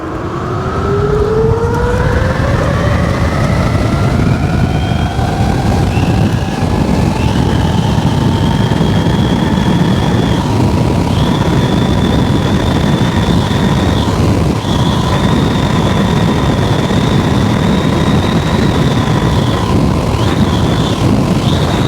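An 8 kW electric bike with a Fardriver ND72680 sine wave controller accelerates hard, its smooth motor whine rising steadily in pitch over loud, constant wind rush, with brief dips in the whine as it pulls on toward high speed.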